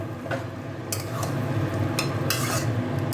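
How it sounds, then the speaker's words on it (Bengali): Chilli chicken being stirred in a pan with red and green chilli sauce, a low bubbling sizzle under a few sharp spatula scrapes and clinks against the pan. "তারপরের মধ্যে আমি একটু গ্রিন চিলি সসও দিচ্ছি, অল্প একটুখানি সামান্য টেস্টের জন্য। দিয়ে এবার নাড়ছি।"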